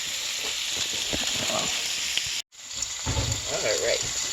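Scallions hitting a hot pot and sizzling, a steady crackling hiss that cuts out briefly, then resumes with stronger frying bursts, close by with no talk.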